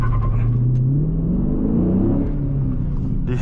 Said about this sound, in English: To launch, press clutch and quickly apply full throttle.